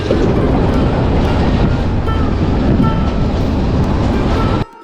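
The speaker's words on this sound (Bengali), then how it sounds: "আমরা এখন রয়েছি পাটিয়া স্টেশনে" A train at Patiya railway station gives a loud, close, continuous rumble and roar that holds steady for several seconds before cutting off abruptly near the end.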